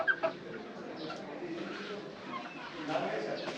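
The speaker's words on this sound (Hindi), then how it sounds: "और ये बाहर का भैया के मुर्गे मुर्गी हैं, भैया ने पाला हुआ है।" Backyard rooster and hens kept as pets at a home clucking in soft, scattered bursts outdoors, with people talking over them throughout.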